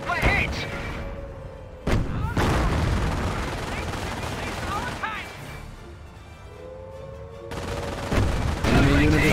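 Machine gun fire on a Company of Heroes battlefield during the Caen mission, with sharp gunfire bursts and rattling volleys over a constant rumble of combat, loudest near the start and again toward the end.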